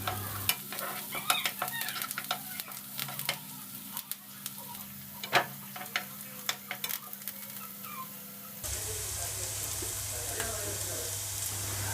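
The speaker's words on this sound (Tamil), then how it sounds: "நம்ம வந்து வெட்டி வச்சுருக்கக்கூடிய வெங்காயத்தை சேர்த்து நல்லா வதக்கிக்கலாம்" Chopped onions sautéing in hot oil for egg podimas, a soft sizzle with scattered clinks and scrapes of stirring, then the frying hiss grows brighter and louder toward the end.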